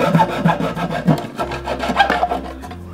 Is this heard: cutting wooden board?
yes